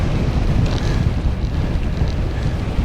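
Strong wind gusts buffet the microphone while cycling in the open on a bike with 50 millimeter rims, a loud, continuous rushing roar with surging gusts and no voices.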